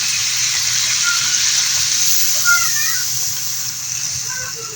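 A glass of water poured into a hot pan of sautéed squash and water spinach, giving a steady loud sizzling hiss that holds for several seconds and eases slightly toward the end.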